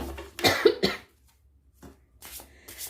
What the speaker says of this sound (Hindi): पता नहीं मुझे बोलने में आज इतनी खांसी क्यों आ रही।